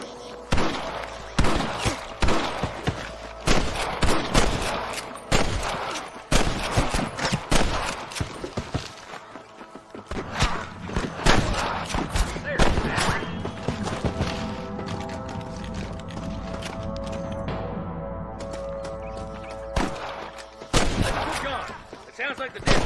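Repeated gunfire from snipers in the Western video game Red Dead Redemption, loud sharp shots in bursts and volleys across the whole stretch, with game music and effects underneath.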